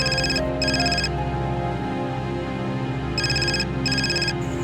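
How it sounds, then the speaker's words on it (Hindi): A mobile phone ringtone plays close and loud indoors, two bursts of a repeating electronic ringing melody separated by a pause, over a steady background tone. "जावेद का फ़ोन है।"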